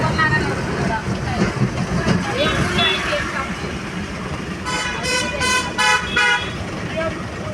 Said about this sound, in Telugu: చూడండి బస్సు స్పీడ్గా కదులుతుంది